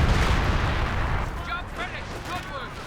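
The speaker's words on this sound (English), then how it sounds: "Officer dropped some artillery down." In the Company of Heroes 2 strategy game, an officer's artillery barrage rumbles as a continuous heavy low roar of blasts, fading slightly as voices chatter and a few whistling sounds come through.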